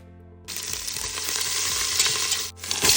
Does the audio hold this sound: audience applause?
no